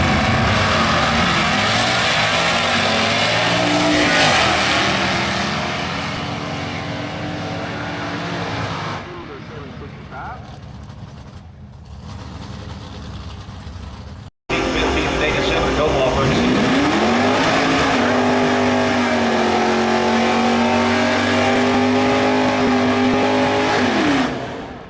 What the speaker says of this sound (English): Gives her some RPM, leaves the line.